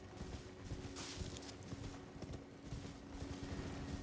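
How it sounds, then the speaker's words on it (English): Horse hooves gallop steadily in the Elden Ring video game, a fast continuous clip-clop rhythm over wind and ambient game noise. "Careful not to kill your horse."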